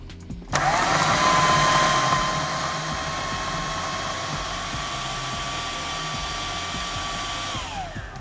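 A kitchen blender whirs loud and close as it purees chicken croquette ingredients with salt, a steady high motor whine that settles slightly after the first seconds and runs on alone until cut off.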